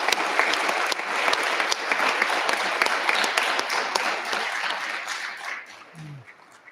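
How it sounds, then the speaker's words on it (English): Audience at a regional science and engineering fair gives a long, dense round of applause for the judges, loud and steady before tapering off near the end. "So I think a round of applause for all our judges."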